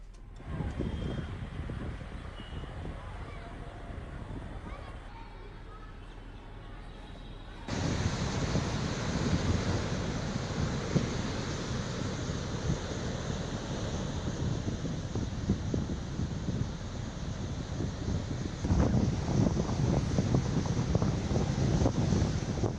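Cyclone Ditwah drives strong wind and high tides on the Tamil Nadu coast, a constant roar of gusts buffeting the microphone over crashing surf that grows louder and denser partway through.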